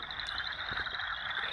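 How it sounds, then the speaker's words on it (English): A steady, high-pitched trill of an American toad, continuous and unbroken, heard from a distance with no other sounds. "The American toad, when it's calling, makes a long trilling sound."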